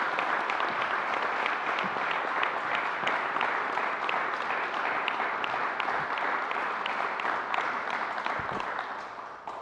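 A crowd at a Buffalo COVID-19 vaccination event led by Governor Cuomo claps steadily, a loud, even wash of many hands that carries on without letup before tapering slightly at the end.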